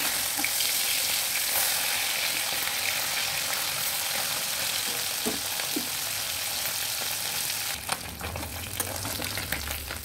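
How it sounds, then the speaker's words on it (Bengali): Fish pieces frying in a pan give a loud, continuous close sizzle with occasional stirring scrapes, and a faint mechanical rattle from nearby construction comes in toward the end. "আর মাছগুলো আমি একটু লাল লাল করে ভাজবো"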